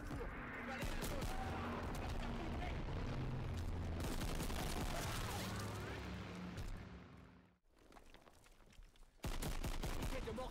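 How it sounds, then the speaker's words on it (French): Mortar fire and gunfire in a World War II shooter, a loud, continuous battle din of blasts and rapid shots with some speech mixed in, cutting out briefly before the roar returns abruptly at the end. "Tire de mortier en cours."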